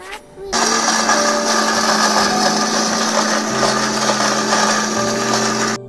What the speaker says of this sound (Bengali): ঠান্ডা হয়ে গেলে এটা আমি মিক্সারে দিয়ে পাউডার ফর্মে তৈরি করে নেব।